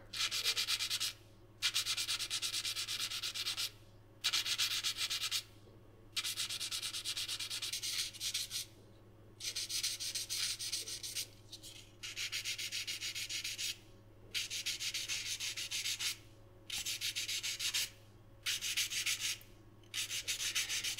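A watch part, an IWC calibre 853 component, is sanded by hand in short repeated strokes, a soft scratchy rubbing that stops and starts in regular bursts with brief pauses, close and quiet with no talking.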